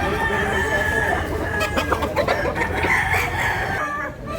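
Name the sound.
rooster crowing and clucking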